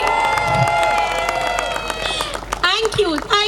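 Audience at a Founder's Day celebration hooting and cheering, with loud sustained whistles, shouts and scattered clapping layered together, and voices calling out near the end.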